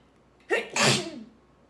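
A single sharp sneeze, close and loud, with a brief intake before the burst and a short trailing exhale.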